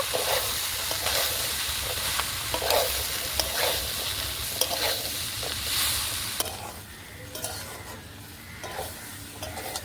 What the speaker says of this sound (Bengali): চিকেন, ছোলা আর আলুটা একসঙ্গে ভালো করে কষিয়ে নেব।